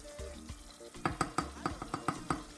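Pepper fries in a pan while cooking Gbegiri and Ewedu soup, a quiet sizzle broken by a series of rhythmic stirring taps and clatters, with no voices.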